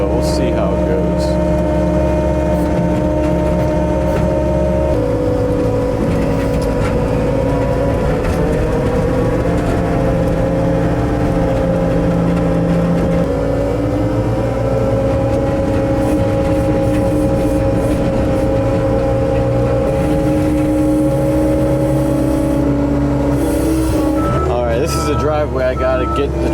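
A cheap snow plow clears packed, driven-on snow from a gravel driveway, its engine droning loudly and continuously with slight shifts in pitch as it works.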